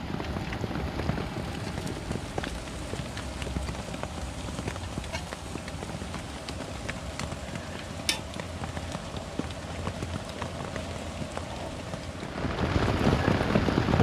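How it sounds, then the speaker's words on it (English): Steady rain falling on a winter lavvu camp in the woods, a dense continuous patter of drops with occasional sharper taps, swelling louder near the end. "Rain is horrific."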